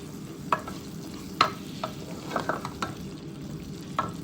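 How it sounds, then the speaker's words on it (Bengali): Tomatoes fry in a pan under a steady low sizzle, with a spoon stirring and scraping in irregular clicks and taps close by. "টমেটো ছাড়ে দিছি, টমেটো কষি গেছে"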